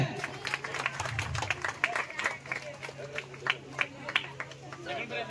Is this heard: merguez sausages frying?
no